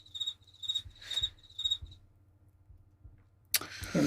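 Cricket chirps from a sound effect pulse in repeated bursts for about two seconds, then fade to a low hum before a sudden loud burst of noise near the end.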